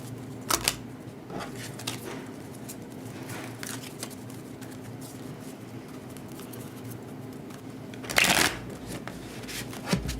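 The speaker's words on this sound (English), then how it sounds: "I will be shuffling here." Tarot cards are shuffled close up in a steady, soft papery riffle that runs continuously, with a few sharper flicks and snaps standing out near the end.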